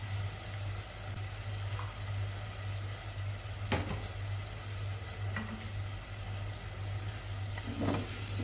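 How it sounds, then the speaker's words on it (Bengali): Button mushrooms frying in a pan with a spoon of sauce and chili flakes give a steady, moderate sizzle, with a few brief scrapes and stirring knocks over a low constant hum, no voices. "এবার ভালো করে মাশরুমটাকে ভেজে নেব।"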